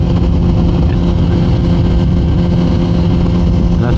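A Kawasaki ZX14R motorcycle engine runs steadily in second gear, a loud continuous low drone held at constant revs throughout, with wind noise mixed in.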